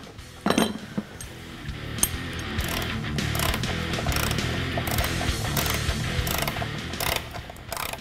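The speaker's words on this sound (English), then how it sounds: "Now we're going to tighten this nut and bolt using a 13mm socket on a 1/4 inch ratchet and a 5mm hex key." Repeated clicking of a 1/4 inch ratchet with a 13mm socket tightening a nut and bolt on a Jeep Wrangler hood catch bracket, close and loud, in quick bursts with short pauses.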